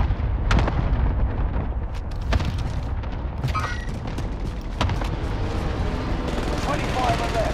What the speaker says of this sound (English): They're shooting a lighthouse as well